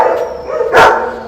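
Dogs at a temporary dog shelter in Yakutsk, with one loud, brief bark standing out over a noisy background.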